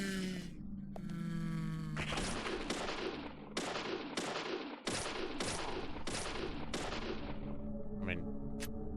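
Rapid bursts of handgun fire in the video game Deadly Premonition, a fast string of sharp, loud shots over sustained in-game background noise.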